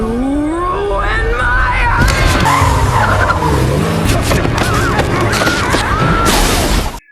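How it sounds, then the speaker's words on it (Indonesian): A car skids with a long tire squeal in the film Get Out. The skid runs loud and continuous over a dramatic music score, and speech and background noise sit underneath until it cuts off abruptly. "Tapi Chris menabrak Gunny yang entah dari mana munculnya dan membuat Gunny tidak sadarkan diri"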